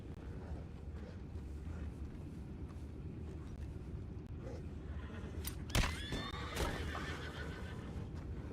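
Low rumbling ambience in a video game, then a horse whinnies loudly partway through, with clopping hooves nearby.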